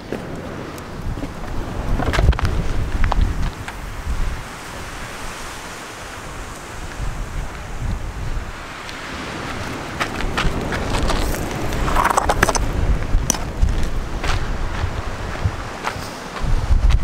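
Strong wind buffets the microphone in loud, rumbling gusts that rise and fall, with a broad rushing noise throughout and no speech.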